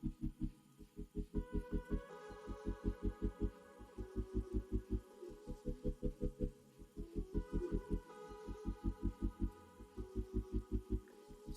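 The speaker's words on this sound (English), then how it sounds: "I'm going to use my food processor to blend this." A food processor chops ginger, onions and peppers in steady rapid pulsing bursts, loud and close, running in repeated stretches with brief pauses between them.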